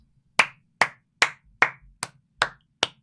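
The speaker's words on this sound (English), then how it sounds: "That was me clapping the match" Seven separate hand claps, sharp, close and evenly spaced at a steady, slow rhythm, with silence between each one.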